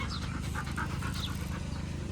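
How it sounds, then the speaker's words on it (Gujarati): A dog pants quickly and steadily while playing, close by and continuous, with a faint background hum and no talk. "આવું કૂતરું આવ્યું અમારી કાં અને મસ્તી કરવા માંડી"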